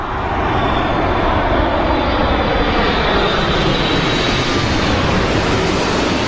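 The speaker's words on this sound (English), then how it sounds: "Aero Mexico's Dreamliner there" Boeing 787 Dreamliner of Aeromexico at Heathrow Airport, a steady broad jet engine roar holding loud and even throughout, with a faint high whine over the rushing noise and no talk.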